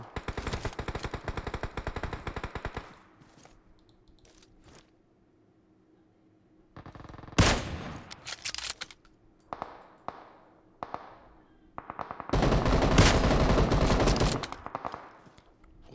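Rapid bursts of automatic gunfire in PUBG Mobile, loud and close, come in several clusters separated by quiet stretches with scattered single shots and small clicks.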